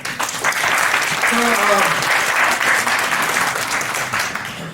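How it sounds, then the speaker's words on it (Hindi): A keynote audience applauds the speaker, a thick, sustained wash of clapping from many hands, with a voice briefly audible through it. "इनके लिए तालियां बजाएं"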